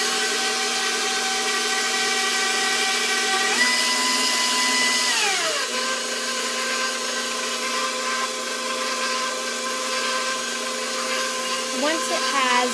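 An electric stand mixer whirs steadily while mixing dinner roll dough, its motor drone holding a constant pitch with a brief shift in speed partway through, loud and close throughout.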